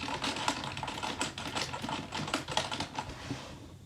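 Rapid, irregular keystrokes on a computer keyboard, close and crisp, clicking away steadily with no talking.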